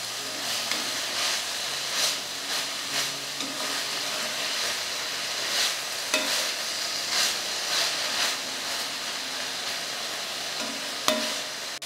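Cabbage steaming and frying in a pan with tomato, a steady close hiss and sizzle broken by soft scraping stirs at intervals, with no talking.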